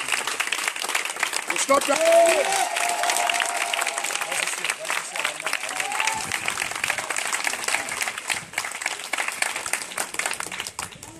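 A church congregation applauds and cheers for Jesus during a prophet's teaching service. Sustained, dense crowd clapping fills the room, and a voice speaks briefly over it near the start.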